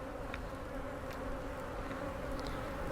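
Honey bees buzzing steadily around a strong beehive in an outdoor bee yard, a dense continuous hum with a few individual bees flying close past, faint and without talk.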